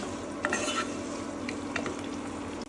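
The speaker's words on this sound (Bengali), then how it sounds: "আগে পেঁয়াজ কুচু দিয়ে দিচ্ছি পেঁয়াজটা একটু ভাজা হলে" Chopped onions fry in a pan for a home-style soya chunk curry, a steady close sizzle with a few sharper scrapes of stirring, no voices.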